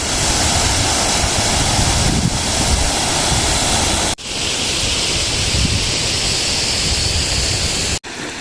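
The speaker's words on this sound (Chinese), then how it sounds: "看起来这是一个小瀑布吧" A small waterfall on a mountain stream in the Qinling Zhongnan Mountains, heard as a loud, steady, close rushing roar of falling water that runs without a break apart from two brief dropouts.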